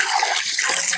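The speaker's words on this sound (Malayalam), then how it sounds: "വെള്ളം ഒഴിക്കി കഴുകിയെടുക്കാം." Water gushes steadily for a moment as it is poured over beef leg pieces to wash them, loud and close.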